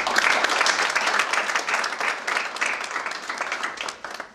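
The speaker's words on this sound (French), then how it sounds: "je voudrais vous demander de les utiliser pour les applaudir très chaleureusement" An audience at a Belgium-Morocco event in Al Hoceima claps warmly, dense sustained applause from many hands that stays fairly steady and tapers slightly at the end.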